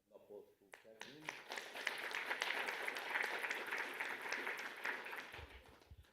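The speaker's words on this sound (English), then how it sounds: "please join me in an applause to Catherine." An audience at an energy and utilities cyber security forum breaks into applause after a brief spoken introduction, and the clapping holds steady and fairly distant for several seconds before fading out.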